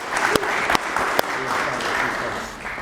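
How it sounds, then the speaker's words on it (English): An audience at a public event applauds, a dense continuous clatter of many hands with a few sharper claps standing out, steady throughout with faint voices underneath. "So applause to you."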